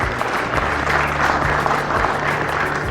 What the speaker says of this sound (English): Give them a huge round of applause first,